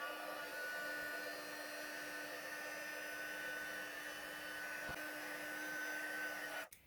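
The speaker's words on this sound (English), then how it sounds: "Then I'm going to heat that all up with my heat tool." A heat embossing tool blows hot air over embossing powder on a card, a steady, close hairdryer-like whoosh with a faint whine that runs unbroken for several seconds before it switches off.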